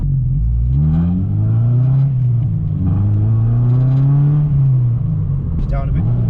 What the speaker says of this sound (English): high up the revs where it really sounds like a Honda